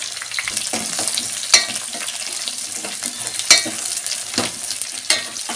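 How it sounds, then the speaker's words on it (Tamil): Onions, chillies and garlic sautéing in a pan for garlic tamarind kuzhambu: an ongoing sizzle broken by regular scraping strokes of a spoon, with a few louder clacks against the pan. "இப்போ வதக்கி வச்ச பூண்டையும் உள்ளே சேர்த்துக்கலாம்"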